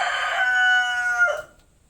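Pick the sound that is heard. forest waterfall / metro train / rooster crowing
rooster crowing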